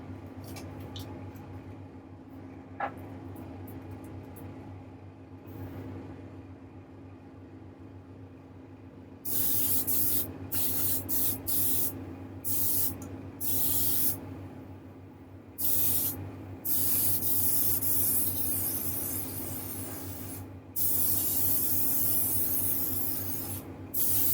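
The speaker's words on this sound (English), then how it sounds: "So I'm pretty much hosing this on, pulling the needle all the way back." Spray gun laying a wet coat of paint on a model: faint hiss at first, then loud bursts of spraying in repeated long passes separated by short pauses, no voices.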